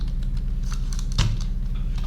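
Keys clatter on a worn computer keyboard in a quick uneven run of taps, one heavier keystroke standing out over a low steady hum.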